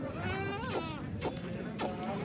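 Goats at a livestock market in Kalamnuri taluka, Hingoli district, bleat several times in quick, wavering cries over a constant murmur of market background noise.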